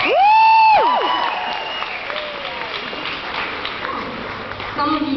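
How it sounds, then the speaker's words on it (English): Concert crowd clapping at a show at Nottingham Trent University, a moderate burst of applause following a loud sung or whistled tone, fairly close and lively. "So give yourselves a round of applause"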